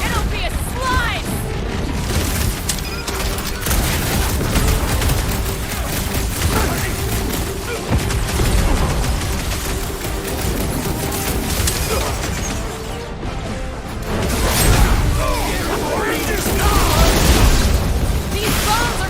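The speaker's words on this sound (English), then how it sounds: "These bombs are making things way too crowded!" Bombs burst again and again in the Guardians of the Galaxy video game, a dense run of booming blasts and pops over busy combat noise, with voices talking through the fight.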